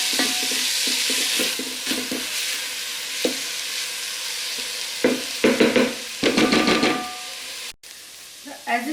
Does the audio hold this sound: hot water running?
no